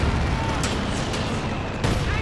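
Heavy mortar shells drop in a Company of Heroes 2 battle, giving distant booming impacts and rumble behind a continuous wash of battlefield noise, with a sharp burst near the end.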